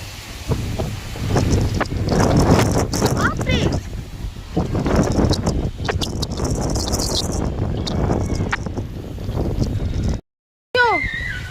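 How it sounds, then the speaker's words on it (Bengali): Strong gusty wind thrashes tree leaves outside a house in stormy weather, loud rushing and rustling in surges, with wind buffeting the microphone and a voice talking at times. "অনেক জোরেই নড়ছে পাতাগুলো"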